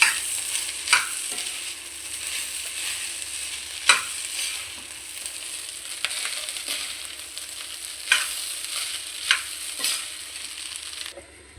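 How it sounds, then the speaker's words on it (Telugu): Rice mixture being stirred in a frying pan, a steady sizzle broken by repeated spoon scrapes and knocks every second or two, close and moderately loud with no talking. "ఇదంతా మనం ఇలా కలుపుకోవాలి."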